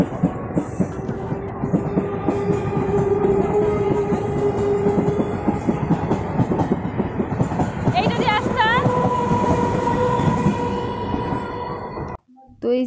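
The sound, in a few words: train at a railway station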